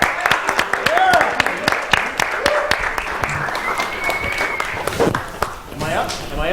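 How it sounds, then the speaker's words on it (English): Telethon audience applauding at a live event, with a scatter of close, distinct claps and some cheering, as people talk and call out over the clapping throughout. "Round of applause."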